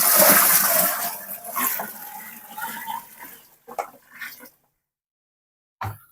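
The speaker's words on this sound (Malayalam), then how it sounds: "നമുക്കൊരു 20 ലിറ്റർ വെള്ളവും കൂടി നമുക്ക് ഇതിൻ്റെ അകത്തേക്ക് ഒഴിച്ചു കൊടുക്കാം." Twenty litres of clean water is poured into a container of organic farm slurry, a loud gushing splash that tapers off into gurgles and a few sloshes before falling silent, with one brief knock near the end.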